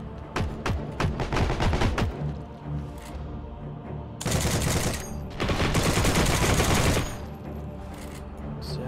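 M1919 machine gun in the video game Heroes and Generals firing loud, close bursts of rapid automatic shots, with a few single shots early and two long sustained bursts later.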